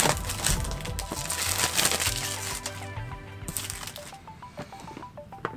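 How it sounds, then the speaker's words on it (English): Knife slicing and tearing the plastic wrap off a OnePlus 6 phone box, up close, with dense crinkling and scraping at first that thins into scattered softer scratches and rustles. "I have a knife handy, since they don't make it easy to take the plastic off of this phone"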